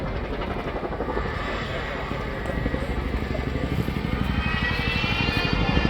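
A Chinook helicopter in a flying display at the Royal International Air Tattoo air show, a loud continuous rotor and engine drone with a rising throb, under a commentator's voice.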